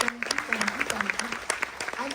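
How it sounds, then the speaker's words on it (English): Aboard the Carnival Jubilee cruise ship during a military appreciation day at sea, an audience claps for merchant marines, scattered sharp claps punctuating the air while voices talk and murmur underneath. "A big round of applause for their service"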